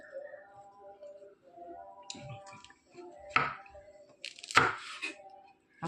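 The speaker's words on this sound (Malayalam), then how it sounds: "വെളുത്തുള്ളി 2ആയിട്ട് അരിഞ്ഞ് മാറ്റാം നമുക്ക്" Garlic cloves are cut in half with a knife on a board, a few quiet, close chopping knocks scattered under soft background noise and faint clicks.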